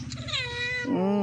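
An angry pet cat gives a short, loud, drawn-out meow that rises and then bends into a harsher wail, close by in a household setting.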